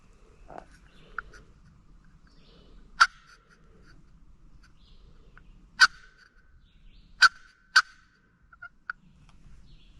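Wild turkey gobblers in the Georgia woods, several sharp rattling gobbles spaced a few seconds apart, moderately distant against a quiet background with faint other bird calls.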